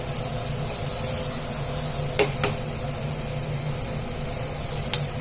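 Aloo methi curry, potato with fenugreek leaves, is stirred in a pan with a soft steady sizzle underneath and a few sharp scrapes of the spoon against the pan, close and fairly quiet, with no talking.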